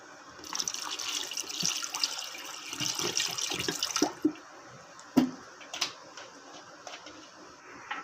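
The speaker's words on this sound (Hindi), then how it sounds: "अब इसमें पानी शामिल करने लगा हूँ।" Water pours into a cooking pot of Pakistani gobi gosht (cauliflower and meat) in a close, splashing stream for several seconds, then stops, followed by a few scattered clinks and drips.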